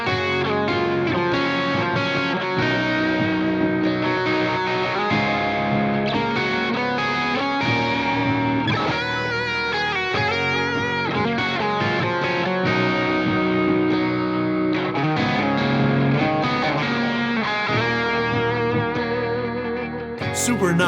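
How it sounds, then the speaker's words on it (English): Distorted electric guitar plays melodic sixth intervals in the Aeolian mode, a sad, melancholic line of paired notes ringing with effects, continuous and prominent for about twenty seconds with no talking. "what I like to use within the Aeolian mode is 6 intervals"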